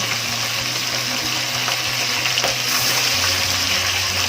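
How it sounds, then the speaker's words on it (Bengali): Small fish frying lightly in hot oil in a pan, giving a steady, close, continuous sizzle with no talking. "মাছগুলো একদম হালকা ভাজবো, উল্টো পাল্টে নামিয়ে নেব।"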